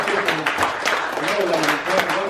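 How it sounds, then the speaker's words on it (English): Audience applause at a legislative special session after senators take their oath, a dense, steady wash of clapping that holds for the whole stretch, with voices talking over it. "Why don't we go ahead and give these guys a round of applause?"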